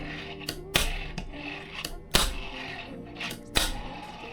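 Sharp wooden clacks from a fingerboard deck landing kickflips, three distinct strong snaps spaced about a second and a half apart with softer taps between, close and clear, no talking.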